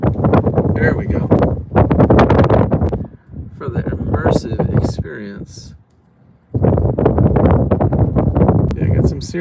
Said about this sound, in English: Yeah, got some serious gusting going on the ground.